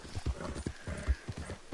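Horse hooves clip-clopping in Red Dead Redemption 2, a steady run of muffled hoof strikes on the ground at a walking-to-trotting pace, moderately close, with a faint snort mixed in.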